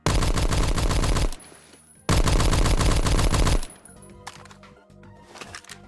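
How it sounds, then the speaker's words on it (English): An M3A1 Grease Gun fires in Phantom Forces, a World War II shooter game, in two loud sustained automatic bursts, each over a second long, separated by a brief pause, followed by faint clicks and handling noises. "And this is what the M3A1 sounds like."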